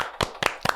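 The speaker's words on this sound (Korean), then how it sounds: "박수." Three sharp hand claps, spaced evenly and heard close up, mark the 20th episode of a Korean weekly overseas-Koreans news talk show.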